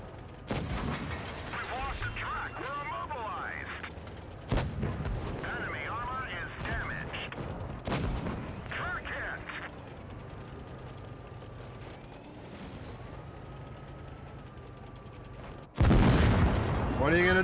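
An IS-7 heavy tank's 122mm gun fires in a video game, several loud, sharp booms spaced seconds apart with rumbling tails, mixed with other in-game battle blasts and engine drone.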